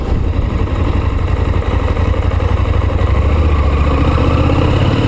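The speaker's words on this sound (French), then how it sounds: "Le moteur est pas trop bruyant." A KTM 890 Adventure motorcycle engine runs steadily, a continuous low rumble with a dense mechanical clatter, close and loud, holding an even note throughout with no talking.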